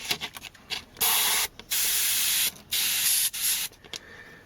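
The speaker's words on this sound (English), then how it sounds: "spray at a high-ish air pressure" A Badger Xtreme Patriot 105 airbrush sprays paint at about 23 psi in several short bursts, a bright steady hiss that starts and stops abruptly with quiet pauses between.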